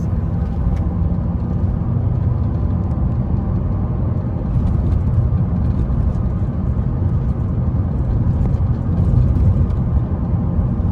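A manual-transmission car engine drones steadily and fairly loudly while the car drives in top gear, with a continuous low rumble and road noise and no voices.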